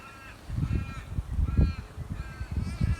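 Harsh crow caws repeat in loud bursts, several birds calling over one another with a steady low rumble underneath.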